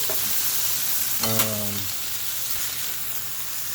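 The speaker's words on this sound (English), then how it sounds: "We use pork steak, cut it into chunks, and brown it." Chunks of flour-dusted pork steak brown in a hot pan, giving a steady close sizzle with a brief louder crackle as pieces are stirred or turned.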